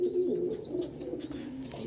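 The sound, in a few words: pet bird cooing at breakfast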